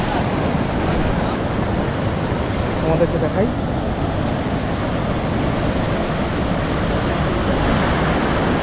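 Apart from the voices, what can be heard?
sea waves at high tide at Digha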